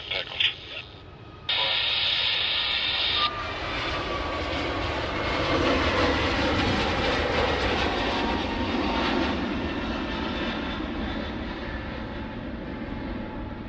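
Velocity 905 roars down runway 34 right at Sydney Airport on takeoff, a broad, sustained jet rumble that swells and holds loud, with a short burst of radio chatter at the start.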